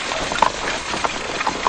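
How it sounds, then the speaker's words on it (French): Officers' horses trot along with quick, light hoof clip-clops in an uneven rhythm over a noisy, old-sounding background. "suivis de leurs officiers, à cheval."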